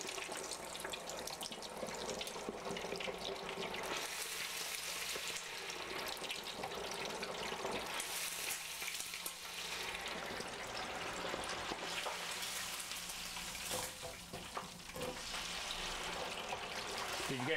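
Bacon-wrapped walleye bites fry in a deep fryer at 350 degrees, giving a steady, loud, continuous sizzling hiss with bubbling crackle throughout and no talk.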